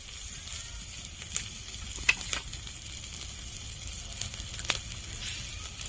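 Vegetables and green chilli paste frying in a pan, a faint steady sizzle with a few small stirring clicks and taps.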